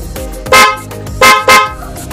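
Dual horn fitted to a Honda Beat version 3 premium scooter honks loudly and close up, three blasts in all: two short ones and one longer, over a steady low hum in the background.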